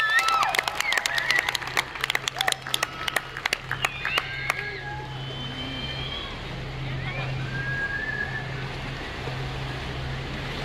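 Close, sharp handclaps of applause for Abraham Estrada, loud and rapid for about four seconds before stopping, leaving a steady rumble of road and engine noise and faint voices.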